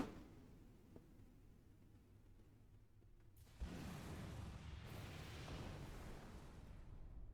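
A door-breaching blast in Star Trek Online erupts midway as a loud sudden boom, following a quiet low-level stretch, then leaves a sustained rumbling roar that trails on to the end.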